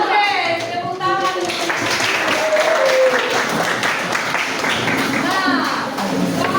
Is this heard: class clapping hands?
yes